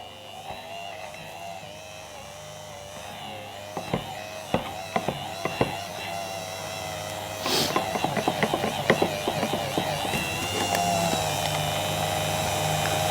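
A hand blender whirs steadily through a partly melted block for a raspberry and passion fruit bûche de Noël, with clicks and clatters from the container across the middle; no talking.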